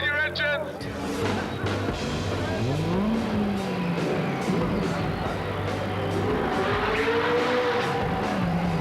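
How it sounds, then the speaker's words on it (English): Car engines start and rev at the start of a cross-country road rally across America, a rising growl and revving over a busy crowd with people talking and calling out throughout. "Everybody in the car, start your engine!"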